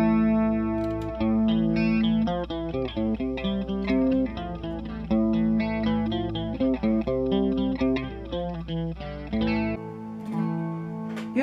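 Guitar played through a DOD FX-64 Icebox stereo chorus pedal set to a fast rate, producing a wobbling, warbling shimmer over a steady run of notes and chords, moderately loud with no talking.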